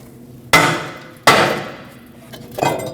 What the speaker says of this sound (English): I'm going to take a hammer, tap between the lug studs, and that will break it free.